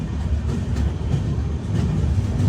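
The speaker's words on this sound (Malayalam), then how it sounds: "അപ്പോൾ മംഗളൂരു സെൻട്രൽ റെയിൽവേ സ്റ്റേഷനിലേക്ക് ഇതാ നമ്മൾ എത്തിക്കൊണ്ടിരിക്കുകയാണ്." A train pulling into Mangaluru Central railway station rumbles steadily and loudly with deep, continuous low-end rolling noise, close by and unbroken.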